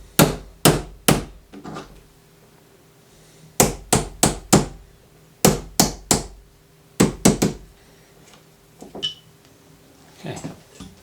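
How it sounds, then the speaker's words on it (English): A hammer taps a Torx bit resting on a Campagnolo Ergo shifter lever to drift out its pivot pin: crisp, close metallic knocks in quick clusters of three to five, separated by short pauses, with no talking. "tap it gently with a hammer, and that pin will drift out."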